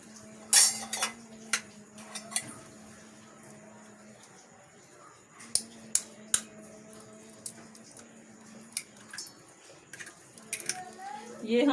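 Egg being mixed with onion and spices, including cumin, fenugreek, green coriander, salt and red chilli powder, in a tall vessel for an omelette, giving scattered clinks and taps of utensil on container in bursts, under a faint background hum.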